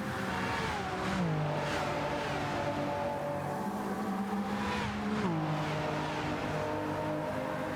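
A Toyota race car in Gran Turismo 7 roars along under load, its engine note climbing through gears with shifts and a steady, loud, close drone throughout.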